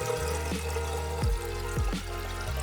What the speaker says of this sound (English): release a valve which lets the alcohol pour into the bucket below